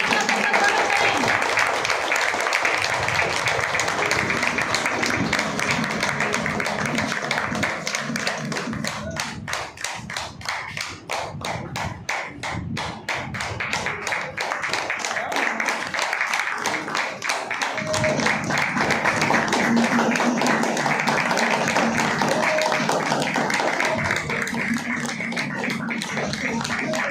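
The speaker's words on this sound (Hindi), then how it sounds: "प्लीज जोरदार तालियों के साथ सबका स्वागत करें।" A crowd at an Ayurveda event claps loudly to welcome guests onto the stage. The dense applause runs for nearly half a minute, fades slightly midway, then swells again, with voices and thumps mixed in.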